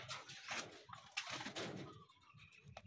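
Racing pigeons cooing softly in a loft, several low throaty coos overlapping in a steady rhythm with a faint flutter between calls.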